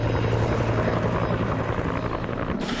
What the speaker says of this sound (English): I think these helicopters are here for you